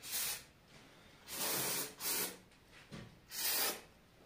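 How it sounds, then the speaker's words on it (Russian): A spray can hisses onto the metal tables of woodworking machines in a workshop. There are four sharp, close bursts, the two middle ones in quick succession, separated by quiet gaps. "Также я брызгаю просто вот так на столы."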